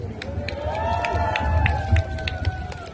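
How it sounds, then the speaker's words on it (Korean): A crowd at a street patriotic rally in front of Youngkwang Bookstore in Seomyeon, Busan, claps and cheers steadily, a dense wash of applause with scattered sharper claps and shouts, voices mixed in throughout. "여러분 박수 부탁드립니다."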